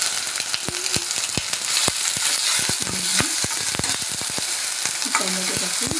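Onion frying in hot oil with ginger-garlic paste, a loud, steady sizzle with dense crackling and sharp pops scattered throughout, plus a few brief stirring scrapes.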